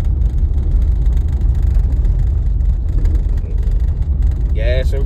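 A Sprinter van's engine rumbles and idles low on a narrow trail road, holding steady with a faint squeal near the end.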